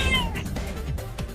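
A cartoon cat meows in a few rising, wavering cries, close and clear over a low background bed, with no talking.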